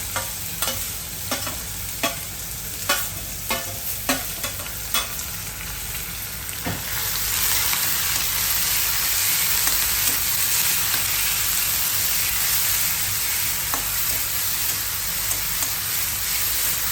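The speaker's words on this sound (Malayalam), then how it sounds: "നമ്മൾ ഇടിച്ചു വെച്ച ഉള്ളിയും ഇൻഗ്രീഡിയൻസും നമ്മൾ ചീനച്ചട്ടിയിലേക്ക് ഇട്ട് കൂടെ കറിവേപ്പിലയും" Crushed onions and curry leaves hitting hot oil in a kadai, a few stirring scrapes followed by a loud, steady sizzle that fills the rest of the time, close and without talk.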